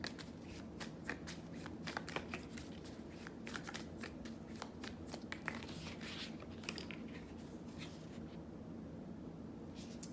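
Tarot cards shuffled and drawn by hand, a quick continuous run of riffling flicks and soft card slaps, close but quiet, easing off toward the end, with no talk.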